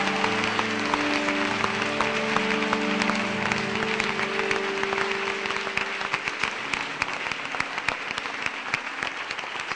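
A church congregation claps and applauds steadily throughout, dense and loud, with a sustained sung or organ-like tone running beneath the clapping for the first several seconds.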